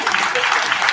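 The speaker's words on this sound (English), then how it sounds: "There's the applause." A crowd's applause plays back from a video, a dense, even wash of clapping across one second, loud and close with no break.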